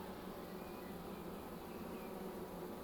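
Swarm of honey bees buzzing in a continuous, dense drone during a cone-trap swarm capture, fairly faint and steady with no talking.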